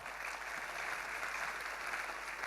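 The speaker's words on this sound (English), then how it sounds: "Let's give the STAR team a round of applause." A crowd at the National Financial Congress 2013 gives the STAR team a round of applause, a steady, fairly faint wash of many hands clapping together, with no voices over it.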